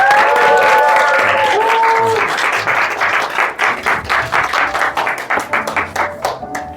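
Applause and clapping from an event audience welcoming a graduating mentee to the stage at a Vision School completion talk, loud and dense at first with music or tones underneath, then thinning into separate, uneven claps toward the end.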